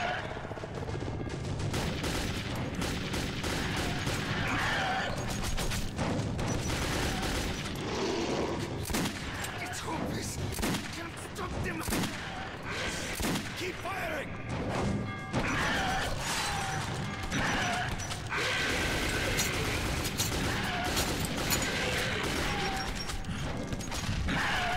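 Gunfire in the Metro 2033 video game, dense and continuous for the whole stretch, with automatic bursts, crashes and mechanical clatter piling into a loud, chaotic battle din.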